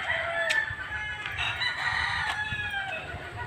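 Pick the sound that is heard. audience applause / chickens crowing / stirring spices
chickens crowing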